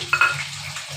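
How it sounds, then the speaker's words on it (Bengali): Meat frying with onions in a pan, a steady close sizzle with a few brief sharper crackles early on and no talking. "এবার পেঁয়াজের সাথে মাংসটা একটু ভাজা ভাজা হবে।"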